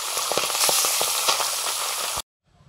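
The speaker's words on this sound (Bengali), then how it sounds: "বাকি মাছগুলো ভাজার জন্য দিয়ে দিচ্ছি।" More pabda fish frying in hot oil, a loud dense sizzle with sharp crackles for about two seconds before cutting off abruptly to near silence.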